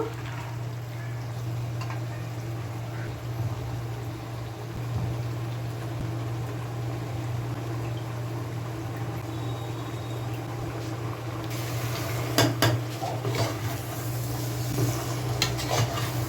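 Pieces of mutton go into hot oil in a pan and get stirred, giving a steady low sizzle with occasional scraping and stirring noises and a constant hum underneath.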